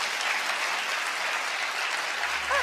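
Applause as a dense, even patter of many hands, moderately loud and continuous, cutting off abruptly at the end.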